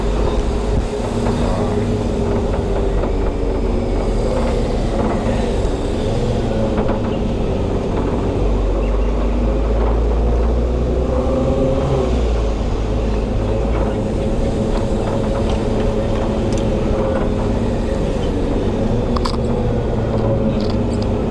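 A city tour bus in Perth, Australia, drives out of Kings Park, its engine and road rumble a steady, loud, continuous drone heard from inside the cabin without speech.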